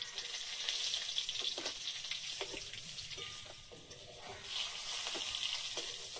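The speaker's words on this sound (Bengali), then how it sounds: "মাছগুলো ভাজা হয়েছে" Fish frying in a pan as part of a Bengali home-cooked meal: a continuous crackling sizzle with small pops and spatters, fairly close and steady, with no speech.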